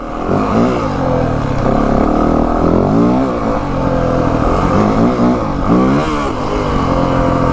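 A 2025 Yamaha WR 450F dirt bike with new suspension settings is ridden in first gear through a rutted turn. The engine roars loud and close, with repeated throttle blips rising and falling in pitch.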